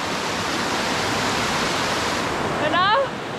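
A large waterfall in winter roars as a dense, steady rush of falling water close by, with a brief voice rising over it near the end.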